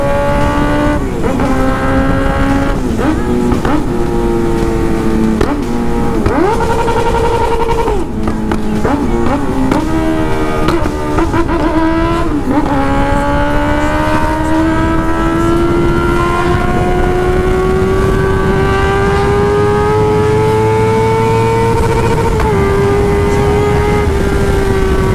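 A Honda Hornet motorcycle engine heard up close while riding, pitch rising and falling through several gear changes before settling into a long steady climb, loud and continuous with little else audible.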